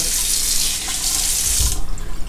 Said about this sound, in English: Let me rinse off some of that hair